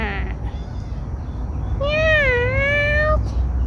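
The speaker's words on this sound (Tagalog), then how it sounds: "Meow." A ginger stray cat meows in a park, one drawn-out, wavering meow standing out clearly over steady outdoor background noise, with a brief higher vocal sound just at the start.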